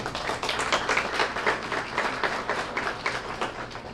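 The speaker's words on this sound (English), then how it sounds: "So let's give them a great round of applause." Audience applause at a student-of-the-month award event honoring a sponsor, a dense, steady wash of many hands clapping for the full stretch, fairly loud and without speech.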